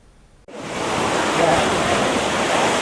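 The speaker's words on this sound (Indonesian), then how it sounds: "ombak besar yang melanda Danau Toba" Large storm-driven waves surging on Lake Toba in bad weather, a steady loud broadband roar of water that begins abruptly after a short quiet moment and then holds constant.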